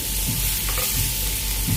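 Fish frying in hot oil in a pan while being flipped, a steady close sizzle throughout with a couple of soft scraping clatters from the turn.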